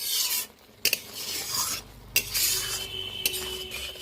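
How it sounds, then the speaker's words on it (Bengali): Shrimp are stirred with powdered spices and a little hot water in a pan, with close scraping and rasping strokes, brief pauses, and occasional sharp clinks of the utensil against the metal. "বেশ কয়েক সেকেন্ড ধরে নাড়াচাড়া করে নেব, গুঁড়ো মশলাগুলো কষানো হয়ে যাবে ভালোভাবে।"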